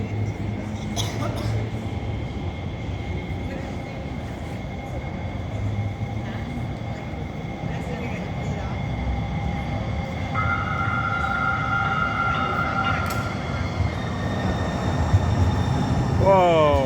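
Seattle Link light rail train pulling into Chinatown station, a steady loud rumble of rolling wheels with rising squeals and whines toward the end, while people talk faintly in the background.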